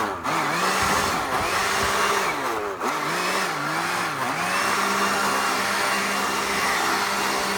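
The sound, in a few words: leaf blower blowing pine bark mulch spillover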